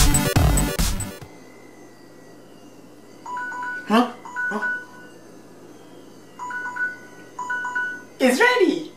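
A phone timer alarm sounds during French press coffee brewing, giving repeated short patterns of electronic beeps at moderate volume, while voices speak between the beeps.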